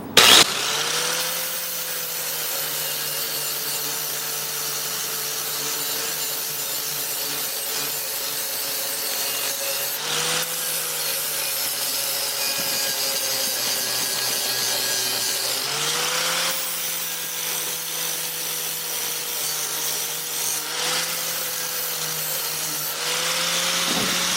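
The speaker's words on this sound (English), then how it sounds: "Harbor Freight die grinder with a flap disc." A Harbor Freight die grinder with a flap disc grinds a Toro lawn mower bag frame at a 30-degree angle, making a loud, continuous, close whine whose pitch dips briefly at a few points.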